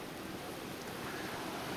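Indian Ocean waves wash around a small Maldives island near a pier, a steady, soft rush of surf blended with wind noise and no voices.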